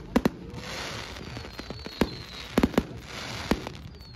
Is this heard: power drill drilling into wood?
no